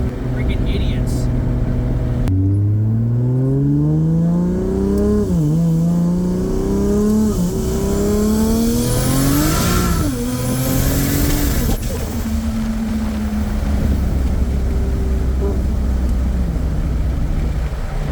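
A Nissan S14 with a 2JZ engine and 8HP70 automatic accelerates at part throttle, the engine note climbing through several gear changes, then settling into a lower drone with road noise; a voice talks briefly over it.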